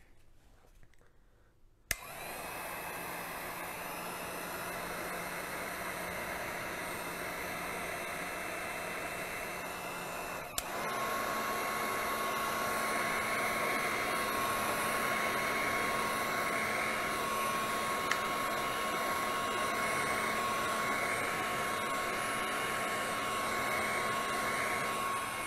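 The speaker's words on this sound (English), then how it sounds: "And then from here, I'm gonna come in with that heat gun." A heat gun blows steadily over resin ocean-themed coasters, a loud, continuous hiss-like rush that starts abruptly and grows slightly stronger partway through, with no talking.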